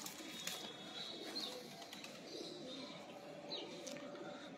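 Sakhi pigeons of an old breed give soft, faint coos with a few light chirps over a quiet, steady background.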